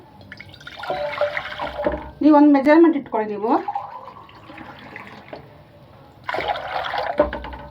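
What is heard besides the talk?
water poured into a cooking pot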